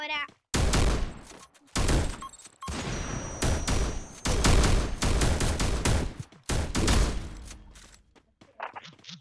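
Gunfire in the Free Fire battle royale game: several loud bursts of rapid shots separated by short pauses, with a voice talking in between.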